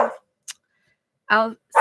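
A dog at a small home zoo gives a couple of short, sharp barks separated by silence, close and fairly loud, with a brief higher yip or squeak between them.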